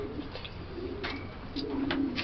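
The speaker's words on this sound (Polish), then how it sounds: "To jest oryginalny gołąb de Klaak." De Klaak pigeon with glassy eyes, a 2000-born bird in a fancier's loft, giving a few soft low coos, close and moderately quiet against faint background noise.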